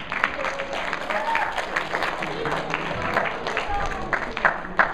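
A short round of audience applause for a candidate at a student presidential debate event, moderately loud, with voices mixed into the clapping.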